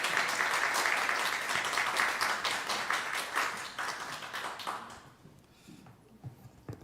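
A church congregation claps in welcome of the pastor at a Sunday service, a moderately loud round of applause that thins and fades away after about five seconds, leaving near quiet with scattered faint taps.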